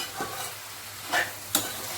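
Cauliflower, potato and peas stir-fried in a pan, with a few quick scraping strokes of the spoon over a low, steady sizzle. No one speaks.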